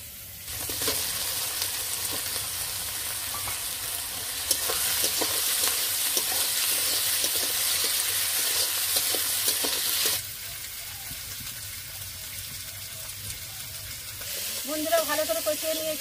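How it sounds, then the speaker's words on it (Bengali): Spices and tomato sautéing in a pan, a steady loud sizzle and hiss with stirring scrapes that drops to a quieter fry partway through, with a brief voice near the end. "বন্ধুরা ভালো করে কষিয়ে নিয়েছি"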